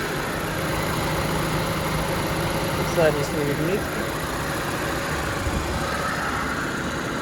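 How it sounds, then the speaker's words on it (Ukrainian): A Renault Megane's engine idles with a steady, even low hum, while a voice speaks briefly over it partway through. "Робота двигуна"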